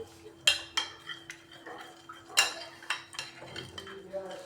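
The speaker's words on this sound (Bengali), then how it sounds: "এবার মশলাগুলোকে ভালোভাবে আমি মিশিয়ে নেবো তেলটার সাথে" Spices, including garam masala powder, being stirred into oil in a pan for chicken tikka masala, with repeated clinks and scrapes of a utensil against the metal pan, fairly close and uneven in rhythm, with no talking.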